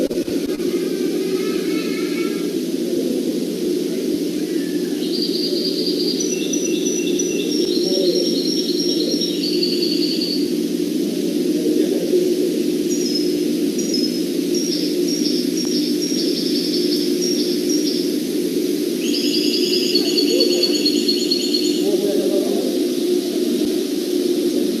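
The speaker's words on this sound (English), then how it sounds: "You could hear the sound of birds" Birds chirp and trill in several bright bursts at a butterfly park in the UAE, clear over a steady low hum of background noise, with no talking.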